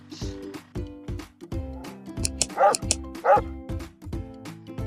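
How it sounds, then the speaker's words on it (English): A dog's bark sounds among a run of animal noises: several short, loud barks and yips in quick succession, close and clear, with whimper-like tones between them and no talking. "dog,"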